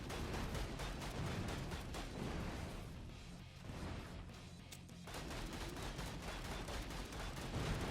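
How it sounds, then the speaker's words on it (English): Explosions in the VALA video game, a dense run of loud overlapping blasts and crackling bursts that fill the whole stretch, easing slightly midway before building again, with no talk. "Llama's running right into the explosion."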